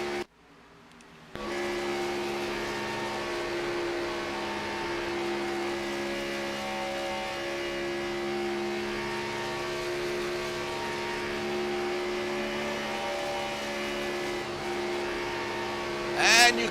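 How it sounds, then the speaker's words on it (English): A single race car engine drones steadily around a banked oval, barely lifting into the turns, a loud sustained whine that holds nearly constant pitch, following a brief quiet start and ending with a short burst. "And you can hear the engine"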